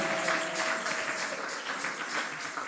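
Church congregation applauding during a French-language Sunday worship service, a steady wash of clapping and faint voices held at an even level throughout, moderately distant.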